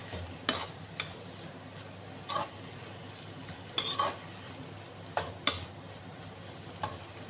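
Spices mixed and fried in a pan, a light steady sizzle beneath sharp, irregular scrapes and clinks of a spoon against the pan, close by with no voices.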